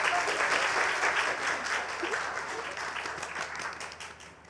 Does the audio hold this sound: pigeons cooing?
no